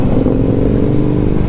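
A loud, close engine drones steadily among a group of superbikes including a Kawasaki Z900 at a bike riders' birthday gathering, a deep, even rumble held at constant revs for the whole stretch.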